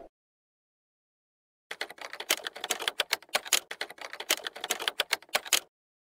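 Typing on a computer keyboard, entering a short description into a form: a steady run of quick, crisp key clicks lasting about four seconds after a silent start, close and clear with no voices.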